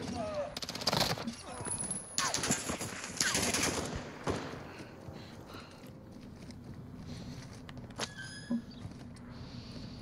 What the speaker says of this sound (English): That was a lot of shooting.